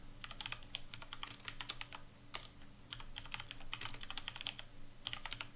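Quick, faint keystrokes tap on a computer keyboard in irregular bursts over a steady low hum, with no voices.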